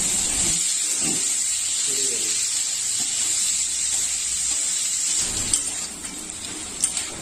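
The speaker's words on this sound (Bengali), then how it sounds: "তেল গরম হয়ে এলে এতে টুকরো করে আলুগুলো ছেড়ে দিতে হবে।" Potato pieces fry in hot oil with a steady, bright hissing sizzle that holds throughout, joined by a few light clatters and knocks from the pan near the end.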